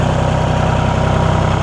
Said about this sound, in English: Let me get out the way so I don't get flattened by a tractor.